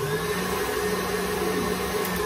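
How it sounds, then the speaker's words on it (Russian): An electric hand mixer whisking sponge cake batter, a steady close whirring drone with a constant motor pitch running without pause. "Чтобы взбивать, нужно сначала включить миксер, который я не включила."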